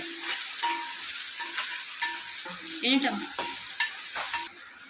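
Onions sizzle quietly in a pan, with soft crackling and a few scraping stirs of a spoon against the metal.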